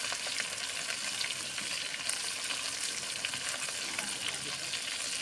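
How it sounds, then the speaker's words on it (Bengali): Taro stolons with prawns fry in a pan with salt and turmeric, giving a dense, close sizzle and crackle as they are stirred. No talk. "এখন একটু নেড়ে নিয়ে ভালো করে এটাকে ভেজে নেব।"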